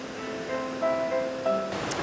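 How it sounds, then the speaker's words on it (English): A Scottish waterfall near a salmon ladder gives a steady, broad rushing roar that holds at a constant level, with faint tonal sounds drifting over it and no speech. "we cannot avoid a waterfall"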